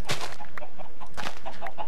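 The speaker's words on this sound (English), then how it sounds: "There's the chickens." Chickens cluck in a Minecraft-style video game, with a few short, close clucks and squawks that stand out clearly.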